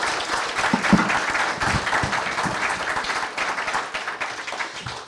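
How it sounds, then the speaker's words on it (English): Warm, sustained applause from a seated audience at a civic club morning program, thanking the presenters; many hands clapping at once, loud and close, swelling slightly and tapering near the end. "How about a round of applause for Bernie"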